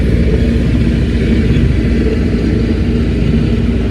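A loud, steady tractor engine rumbles close by beside a river, a low, constant drone with no change in pace and no voices.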